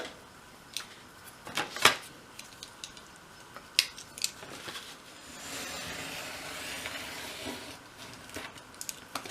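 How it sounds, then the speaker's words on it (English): Craft knife slicing through a folded paper sheet along its creases, giving a few short scraping strokes and then a longer steady cutting rasp, close and fairly quiet with no talking. "So I'm going to use my craft knife to cut along those lines."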